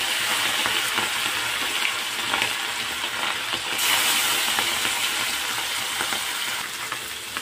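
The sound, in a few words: turmeric-salted small fish frying in oil in a kadhai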